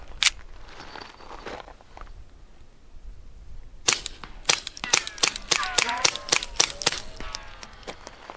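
Suppressed Walther P22Q pistol firing Remington .22 rounds, a rapid string of sharp, close reports with ringing, metallic tails after a quieter opening stretch.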